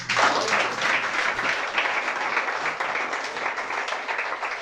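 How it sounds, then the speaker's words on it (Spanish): Congregation in a church breaking into sustained applause, a dense wash of many hands clapping steadily from start to finish, loud and close with no talking over it. "Denle el aplauso al Rey."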